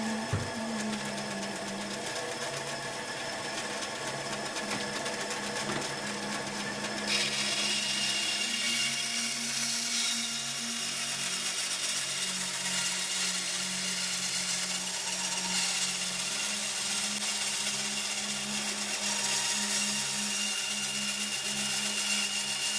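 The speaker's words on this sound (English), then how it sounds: "You need your bandsaw to start moving, right?" A bandsaw runs continuously in a cold shop, a sustained mechanical hum and whine with a low motor drone. The sound brightens and gets louder partway through as the blade comes up to speed.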